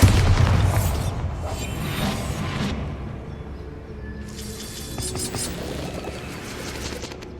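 A Bombarda spell blasts inside a goblin mine in Hogwarts Legacy, a heavy booming burst up front that decays into rumbling, crackling debris, followed by a second wave of scattered impacts and clatter.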